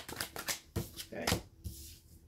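Tarot cards with a slippery finish being shuffled in the hands, a series of quick papery riffles and soft slaps in uneven bursts, close by, with a voice talking between them.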